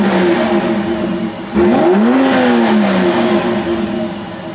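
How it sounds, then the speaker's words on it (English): A 2025 BMW X3 M50 idles in comfort mode, then gives one quick exhaust rev that swells and falls back to a steady idle, close and without talk. "Let's go ahead and get a little bit of an exhaust rev."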